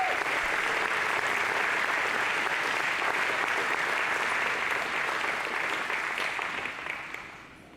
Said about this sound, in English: How about a round of applause for all 3?